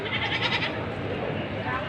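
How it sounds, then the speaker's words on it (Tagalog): Goats at a Philippine goat market bleat in a noisy crowd, a loud burst of overlapping bleats early on fading into general chatter and background voices. "Kambing ni Kuya Bert."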